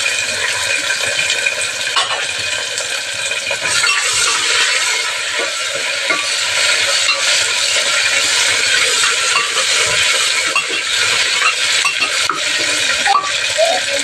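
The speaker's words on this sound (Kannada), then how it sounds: "ಒಗ್ಗರಣೆಗೆ ಈರುಳ್ಳಿ ಟೊಮೆಟೊ ಹಾಕೋಣ." Onion and tomato frying in a pan for the tempering of an avarekalu sambar: a steady, fairly loud sizzle with frequent scrapes and clinks of a stirring spoon against the pan, no voices.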